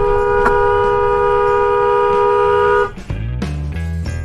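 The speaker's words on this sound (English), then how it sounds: "even after honking at her to alert her of our presence" A car horn honking at another driver on the road: a loud, steady sustained blare lasting nearly three seconds, then cutting off into rumbling traffic and engine noise.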